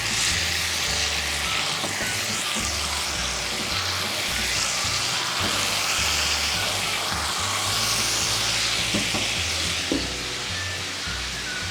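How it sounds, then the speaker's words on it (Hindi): Beef keema frying in a pan with a splash of vinegar for keema macaroni, a dense, continuous sizzle with occasional stirring clicks and no voices. "और इसे हम फ्राई करेंगे।"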